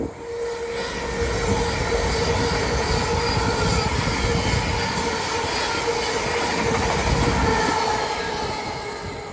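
LNER Class 800 unit 800104 passing through Durham station on a service from Aberdeen to London King's Cross, a loud sustained rumble of wheels and rolling stock with a faint squeal, steady throughout and fading slightly at the end.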